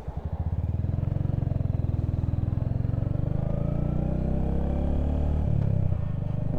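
A Royal Enfield Hunter 350 single-cylinder motorcycle fitted with a 16-tooth sprocket pulls away in first gear, its thumping exhaust rising steadily in pitch as it accelerates, loud and close, easing near the end.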